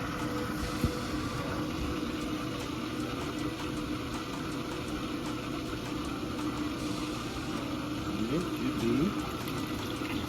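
A steady mechanical hum of a Navien NPE-A2 tankless water heater's internal pump circulating descaling solution, with faint liquid churning underneath and a brief voice in the background.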